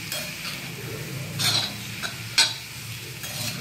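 Chopped onions stirred in a pan over a low flame, soft sizzling throughout with a few scraping strokes and a sharp clink of the utensil against the pan, quiet and close.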